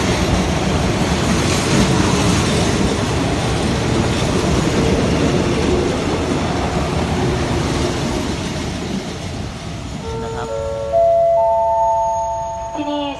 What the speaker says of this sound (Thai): ต้นทางหัวหินปลายทางกรุงเทพ กำลังจะเข้าจอดนะครับ ที่ชานชลาที่หนึ่งของ สถานีบ้านโป่งครับ